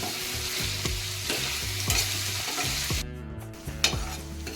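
Onion and tomato fry together in a pan for a shrimp masala, a dense nearby sizzle with regular spoon stirs and scrapes, no speech over it.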